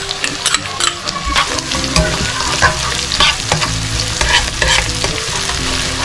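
Loud sizzling of onion and garlic in a hot pan with frequent stirring and scraping clatters, steady frying throughout.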